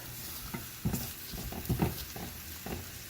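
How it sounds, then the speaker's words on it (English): Scallion whites and light greens stirred in a pot with a spoon, soft scraping and light sizzling in short irregular strokes, close and fairly quiet, with no talk. "I'm going to add my scallion whites and light greens. I'm going to stir that up for a little bit"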